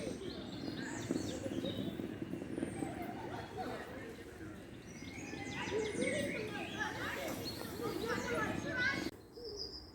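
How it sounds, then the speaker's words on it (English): Birds chirp and coo outdoors along the Water of Leith Walkway, a mix of calls and cooing layered over a steady background, with people talking nearby. "to listen to the bird's song"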